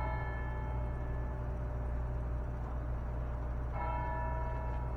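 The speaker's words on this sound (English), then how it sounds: "I just hear bells ringing." Church bells ring with long, shimmering tones over a steady low rumble, a fresh strike sounding near the end.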